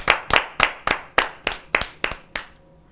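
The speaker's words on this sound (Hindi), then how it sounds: "जोरदार तालियों से स्वागत है।" Audience clapping at a New Year kavi sammelan poetry gathering as a poet is welcomed: about nine sharp, evenly spaced claps in a steady rhythm, fading slightly toward the end.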